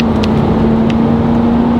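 Ford F-150 Harley-Davidson pickup truck with a V8 engine accelerating on a road, a loud steady engine drone with a constant hum running throughout, heard from inside the cab with no talking.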